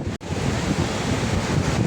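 Strong, rough waves pound San Fabian Beach in Pangasinan in a loud, continuous roar, with wind buffeting the microphone.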